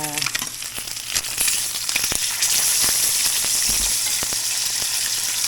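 Mackerel fillet sizzling and frying in a pan, a steady dense hiss with scattered crackles and pops throughout, fairly loud and close, no talking.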